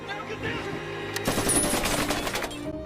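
A robot's machine gun pours rapid, continuous automatic fire onto a car, a loud dense rattle of shots that swells in the middle of the stretch, with a low rumble underneath.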